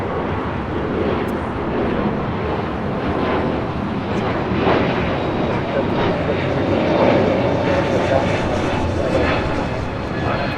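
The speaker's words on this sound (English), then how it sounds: "This flight heading to Orlando. Delta Airlines flight 867 on this A321neo" Delta Air Lines A321neo jet departing Los Angeles for Orlando, a steady loud engine roar that swells slightly midway and holds throughout, with faint voices beneath.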